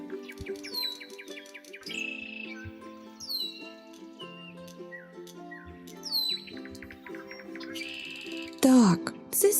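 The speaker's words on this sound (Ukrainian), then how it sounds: "Так, це співають пташки." Several small birds sing and chirp outside a window in spring, with bright overlapping tweets and trills coming in bursts throughout, some close and loud, others fainter, over a steady low background hum.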